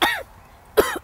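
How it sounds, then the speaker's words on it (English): Two sharp coughs close to the microphone, separated by a brief quiet pause. "Don't cough. Don't cough. That grosses me out."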